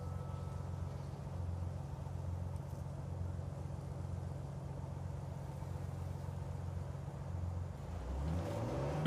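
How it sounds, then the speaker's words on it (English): Jeep engine in Uncharted 4, a steady revving drone while driving, quite faint, with a low rumble that swells and shifts toward the end. "Here's a clip of you driving the Jeep."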